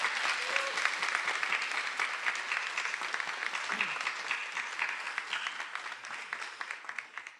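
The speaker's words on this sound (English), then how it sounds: "Can we give Professor Kevin McEwen and his drummer a round of applause, please" A crowd applauds at a Sankofa celebration event, honoring a professor and his drummer: a steady, moderately loud wash of many hands clapping that gradually thins out toward the end, with a few scattered voices underneath.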